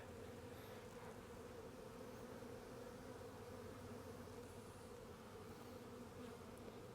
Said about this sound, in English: A lot of bees wanting to come out through the top here. Matter of fact, there's a ball of bees.